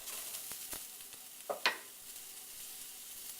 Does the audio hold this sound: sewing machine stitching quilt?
no